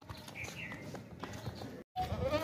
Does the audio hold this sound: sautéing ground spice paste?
no